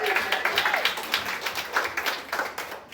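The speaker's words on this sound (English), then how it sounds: "Clap it up for your next contestant, Nate, everybody." A comedy club audience in New York City claps and applauds for a contestant, a dense burst of many hands that stays steady throughout, with faint voices underneath.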